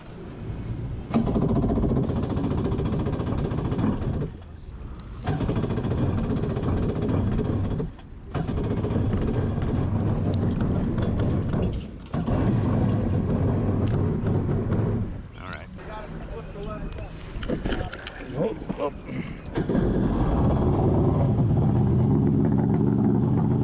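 A Yamaha Waveblaster jet ski engine runs steadily on open water, a loud continuous droning rumble with wind buffeting, briefly dipping a few times as the throttle eases before surging back.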